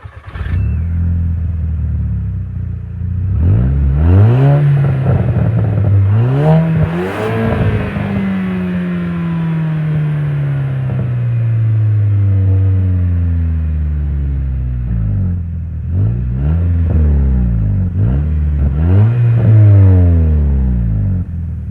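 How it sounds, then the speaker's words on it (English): A 2008 Volkswagen Eos four-cylinder engine with a resonator delete cranks and catches, then revs up and down several times with a throaty, droning exhaust, loud and close, before settling to idle. "This car does have a resonator delete, so I'll give it a little start up and you can hear how it sounds."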